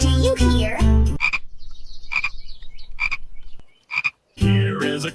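A frog croaks in four short, rough bursts spaced about a second apart, fairly loud and close, with a voice heard just before and after.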